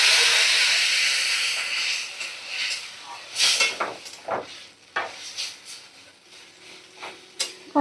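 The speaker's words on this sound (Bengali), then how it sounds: "দেখো এবার জল দিয়ে দিচ্ছি।" Water poured into a pan of sizzling spice masala with potatoes lets out a loud steamy hiss that fades over a few seconds, followed by scattered stirring clatter and scraping.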